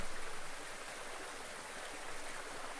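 River water flows steadily and softly, a continuous gentle rush with no voices.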